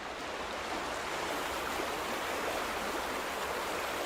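Water flowing in a stream in The Vanishing of Ethan Carter, a steady, even rush that stays constant throughout with no voices.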